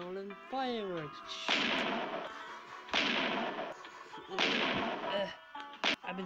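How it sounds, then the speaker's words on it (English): Three loud, booming video game firework explosions burst at roughly even intervals, each with a crackling, sizzling tail, preceded by a short voice and followed by a few sharp pops. "Rolling fireworks."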